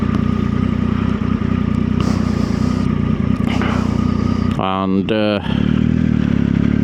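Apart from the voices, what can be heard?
motorcycle engine with aftermarket exhaust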